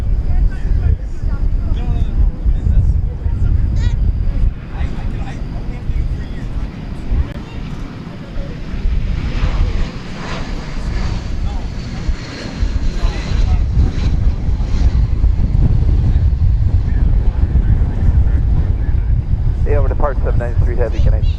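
A heavy Canadian jet takes off from DFW airport at night, its engine roar a steady broad rumble mixed with strong gusting wind noise on the microphone for the whole stretch.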